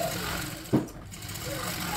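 A sewing machine top stitches fabric with a steady, close mechanical whir, broken by a single soft thump partway through.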